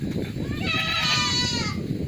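Young dairy goats bleat in a pen during feeding with compressed leucaena fodder, their thin wavering calls overlapping across the clip under a busy background murmur.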